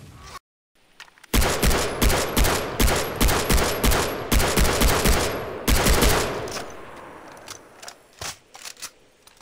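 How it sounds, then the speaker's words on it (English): Rapid bursts of unsuppressed MS16 assault rifle fire in Far Cry 3, loud, sharp shots in repeated volleys after a brief silence, tapering into a few scattered single shots and echoes near the end. "So this is what the gun sounds like with no suppressor attached at all."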